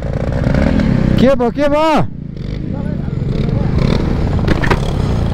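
A motorbike on a dusty road revving unevenly as it struggles, the engine note rising and falling in two quick surges before dropping away, with nearby voices talking over steady engine noise.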